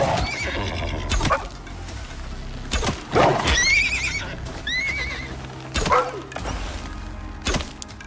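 A horse in the video game Icarus gives several loud whinnies over a steady ambient bed, with a few sharp hoof knocks and thuds scattered between them.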